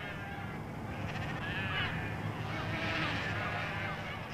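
Sheep bleating on a large sheep-farming settlement at Goose Green in the Falkland Islands, several overlapping calls rising and falling over a steady outdoor background, moderately close and fairly loud.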